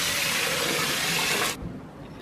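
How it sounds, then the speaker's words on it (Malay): Water pouring into a pot for boiling dal, a loud steady hiss of flowing liquid for about a second and a half that stops abruptly, leaving a faint trickle. "Okey, kita letak air lebih sikit untuk kita merebus dal ni."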